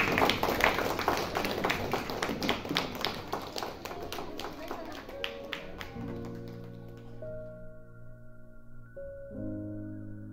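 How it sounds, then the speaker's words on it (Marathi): Audience clapping at a Jayanti festival event, a brisk burst of rhythmic claps that tapers off around midway, after which sustained tonal music takes over. "टाळ्या वाजत राहिल्या पाहिजे"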